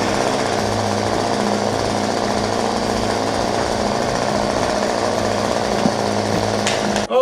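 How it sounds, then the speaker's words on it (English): A steady, loud mechanical roar with a buzzing, engine-like drone, like a blowtorch that sounds like a chainsaw, runs continuously throughout. "it's a blowtorch that sounds like a chainsaw"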